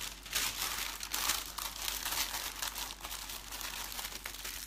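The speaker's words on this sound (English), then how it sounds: "I'm going to pop it in a plastic bag" A plastic bag crinkles and rustles up close while lunch is packed, a steady run of crisp crackling handling noises with small bursts.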